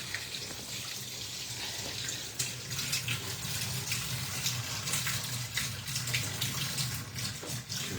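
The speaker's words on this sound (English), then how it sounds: "Make it warm water." Warm water runs steadily from a tap into a sink while preparing a tie-dye shirt, a continuous hiss and splash that holds even throughout with no talk.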